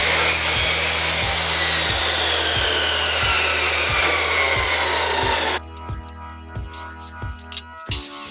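A power saw rips wood strips for a sign frame, a loud sustained cutting whine with a regular rhythmic thump, then the blade cuts out and winds down near the end.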